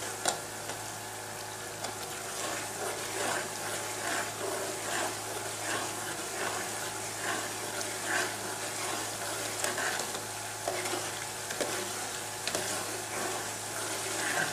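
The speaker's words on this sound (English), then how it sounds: "Constantly stirring so that it doesn't stick to the bottom of the pot" Gravy sauce stirred in a pot on a Nigerian stove, a soft continuous sizzle with faint scraping strokes under a low steady hum, no voices.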